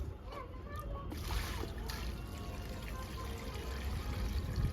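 Water pours steadily into a bucket for planting a rose, a continuous close splashing and sloshing stream with faint voices underneath.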